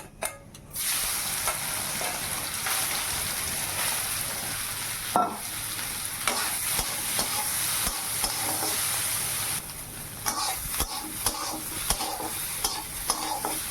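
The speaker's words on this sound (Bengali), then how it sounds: "লবণ হলুদ দিয়ে সোয়াবিন ভাজা হয়ে গেল" Soybean chunks fry with salt and turmeric in a hot pan, a steady broadband sizzle running nearly the whole time, briefly dipping near the end, with occasional stirring scrapes and clinks over it; no talking.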